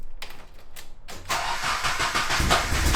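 Nissan 240SX engine cranking over: a short stuttering start of starter whirs and gaps, then a sustained rough, noisy churning as it tries to catch, close and loud.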